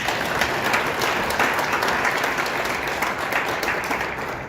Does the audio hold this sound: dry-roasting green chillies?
no